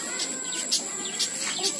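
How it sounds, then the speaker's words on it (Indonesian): A zebra dove (perkutut) gives soft repeated coos at a zoo-like animal park, several short calls spaced evenly over a couple of seconds against light background noise. "Burung perkutut."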